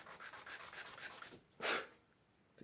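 Rapid rhythmic rubbing strokes sand a tiny handmade beech wood box for a 1/12 scale dollhouse, a quick series of close scrapes followed by one longer, louder rub and a pause.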